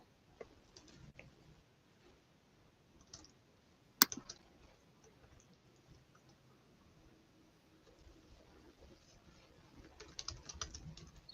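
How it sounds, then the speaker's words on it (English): A computer mouse gives one sharp, distinct click in the middle of a quiet stretch, with faint scattered keyboard and desk taps around it in a hushed room. "I just click the extension"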